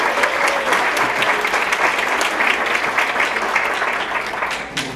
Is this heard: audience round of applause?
yes